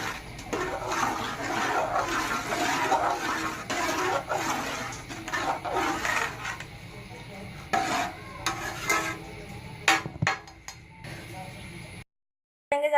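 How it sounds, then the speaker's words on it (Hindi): A spoon stirs milk and vermicelli (seviyan) in a cooking pot, giving soft repeated scraping and liquid swishing at close range, uneven in rhythm, with a few sharper knocks near the end. "अब हम इसको दूध और सेवइयों को अच्छी तरीके से दोबारा से मिक्स करेंगे।"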